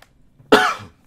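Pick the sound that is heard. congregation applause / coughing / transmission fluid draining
coughing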